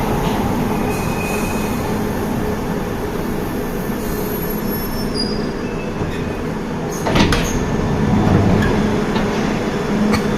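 London Underground Piccadilly line train running between Arsenal and Uxbridge, a loud steady rumble of wheels with high squeals, a sharp clatter near the middle and the noise building afterward.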